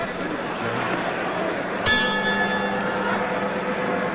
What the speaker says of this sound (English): The bell for round 5.